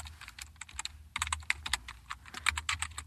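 Rapid typing on a computer keyboard, close and crisp, with bursts of quick key clicks separated by short pauses.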